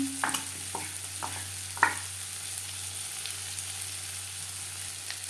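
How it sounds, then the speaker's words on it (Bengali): Onion and garlic fry gently in oil in a pan for fish curry, a steady soft sizzle with a few clinks of stirring near the start, no voices. "দু তিন মিনিট পেঁয়াজ রসুন ভেজে নেওয়ার পর"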